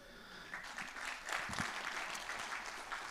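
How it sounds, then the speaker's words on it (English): A room full of people claps steadily, a dense, even patter of applause that holds for a few seconds. "So you should give yourselves a round of applause."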